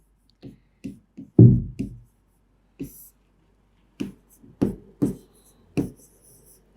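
A teacher writing on a classroom board produces a series of short, sharp taps and scrapes in uneven bursts, with a few louder strokes, close and clear, with no talk over them.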